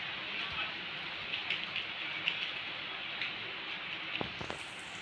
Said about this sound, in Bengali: গরমের পরে এখন বেশ বৃষ্টি বৃষ্টি হচ্ছে, ভালো লাগছে